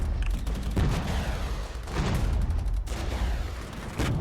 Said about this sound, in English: our guys are firing off their anti-tank vehicles at the same time